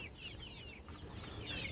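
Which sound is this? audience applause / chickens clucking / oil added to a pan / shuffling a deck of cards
chickens clucking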